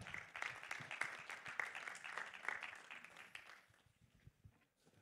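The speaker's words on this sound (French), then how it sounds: "me rejoindre sur scène sous vos applaudissements s'il vous plaît" Applause from the audience at a round-table event as panelists join the stage, a faint, distant patter of many hands that thins out toward the end.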